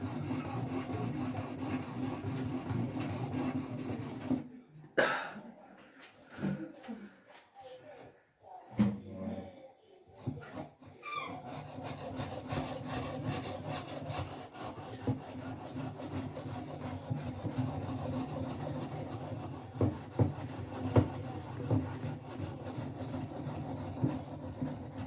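A knife is drawn repeatedly across a sharpening stone, rough and scratchy at first as the burr comes off, then steadier and smoother, with a brief quieter stretch of handling noise partway through.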